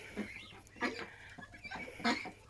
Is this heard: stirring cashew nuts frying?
no